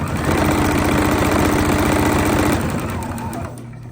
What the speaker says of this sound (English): so I can just keep sewing